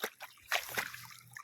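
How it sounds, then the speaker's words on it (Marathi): Spring water trickling and sloshing into the corner of a pond, a soft close burble with small splashes and no talk. "हे बघा, तलावाचा झरा आहे तो, तलावाच्या खाली कोपऱ्यामध्ये."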